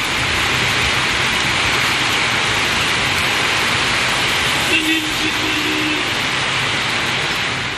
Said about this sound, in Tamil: கோவை தொண்டாமுத்தூர் சுற்றுவட்டார பகுதிகளிலும் சுமார் ஒரு மணி நேரத்திற்கு மேலாக மழை